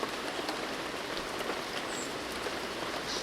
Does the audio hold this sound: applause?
no